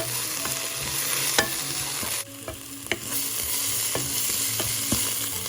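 Chopped onions with salt sautéing in a pan, a steady close sizzle with several sharp clicks and scrapes of a utensil stirring against the pan, no talk.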